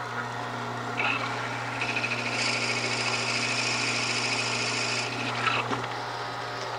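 A drill whines steadily into a segmented wood blank over a constant motor hum, the grinding growing louder and harsher in the middle before easing off.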